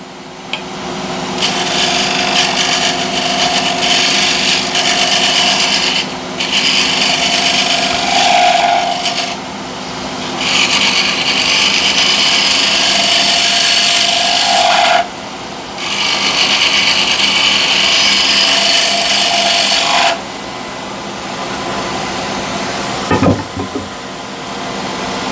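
A file working along the sharp edge of a woodworking card scraper, giving steady rasping strokes in several long bursts separated by short pauses, close and fairly loud, with no talk.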